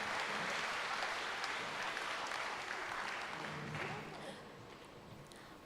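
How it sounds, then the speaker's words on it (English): A school audience at an annual thanksgiving day event applauds steadily, a dense wash of many hands clapping that holds for several seconds and then fades toward the end. "a round of applause to all our students"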